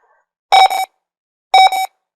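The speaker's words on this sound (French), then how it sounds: "Oh là là, les bips." Electronic beeps from a Sophos UTM9 firewall appliance during installation: two short double-tone bursts about a second apart, loud and clear against silence.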